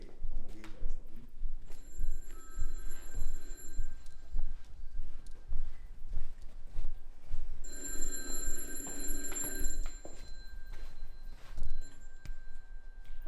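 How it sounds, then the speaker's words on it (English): A telephone rings indoors in two clear bursts of bell-like tones, moderately loud and separated by a quieter gap, over faint room noise. "The phone's ringing."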